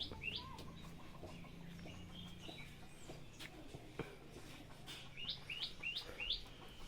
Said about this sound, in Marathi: पोपट काय म्हणता तू बघूया